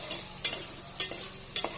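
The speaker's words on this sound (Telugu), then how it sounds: "ముందుగా కట్ చేసుకొని పెట్టుకున్న చామదుంపలు అయితే వేసుకున్నాం, వేసుకొని కలుపుకున్నామండి." Taro pieces frying with onion in a pan hiss steadily up close, broken by three spaced spatula scrapes as they are stirred, with no voices.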